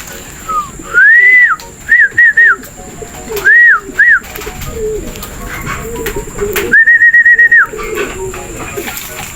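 Pigeons give repeated whistle-like calls in short bursts and longer held notes, loud and close, over a steady background hum with faint talk.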